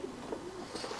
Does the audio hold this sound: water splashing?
no